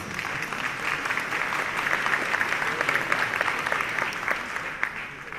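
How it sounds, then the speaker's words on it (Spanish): A panel audience at a university education event applauds, the clapping dense and sustained at an even level with a slight fade at the end. "Realmente es un aplauso para ambos."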